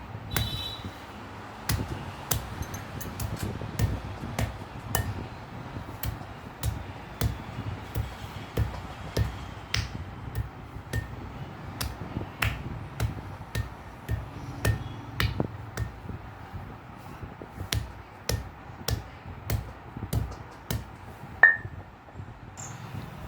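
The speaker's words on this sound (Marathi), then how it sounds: "हळकुंड आपल्याला आता या बत्त्याच्या किंवा वरवंट्याच्या सहाय्याने खिसून घ्यायचं आहे" Dried turmeric roots are crushed at home with a pestle or grinding stone. Faint, fairly regular knocks and taps repeat throughout in a quiet room.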